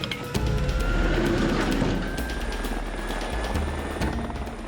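Loud, steady helicopter engine and rotor noise filling the whole clip, a low droning roar with a faint whine above it, as the helicopter struggles to take off.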